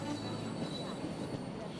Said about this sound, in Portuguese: O vai e vem dos trens foi desacelerando.